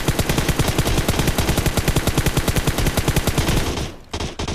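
Fully kitted M4 assault rifle fired in the video game PUBG Mobile, a long rapid automatic burst of loud evenly spaced shots, followed by a short pause and a few more rounds.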